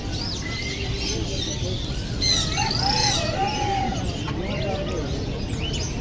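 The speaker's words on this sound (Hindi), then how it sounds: "ये क्या चीज़ है? मुर्गी है।" Chickens at Empress Market in Saddar, Karachi, with a rooster crow and clucking rising over a steady, busy market murmur and nearby voices.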